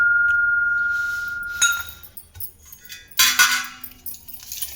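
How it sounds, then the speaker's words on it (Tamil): An antique brass bell gives one ringing tone that fades slowly, followed by sharp metallic clinks and a jangle as brass and bronze items are handled close by. "மணி சத்தம்."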